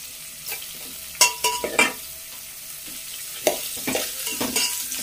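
Onion and green chilies fry in oil with spluttering cumin seeds, a continuous sizzle broken by several sharp pops and crackles in uneven bursts.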